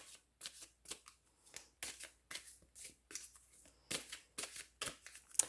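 A deck of small cards is shuffled close by in a quiet room, with a steady run of crisp papery riffles and slaps repeating in short regular bursts.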